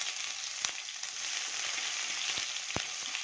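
Chopped onion with grated ginger and garlic frying in hot oil with cumin and a pinch of asafoetida, a steady close sizzle with a few brief stir clicks, no voices.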